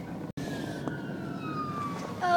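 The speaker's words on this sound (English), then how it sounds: "Oh no, fire engine." A fire engine siren wails faintly in the distance from inside a moving car, a steady falling tone over road rumble.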